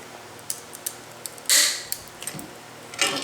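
Wood cracks under a bearing puller during a Yates American J180 drive train bearing extraction, heard as scattered faint ticks and creaks with one louder crunching snap midway, close and quiet.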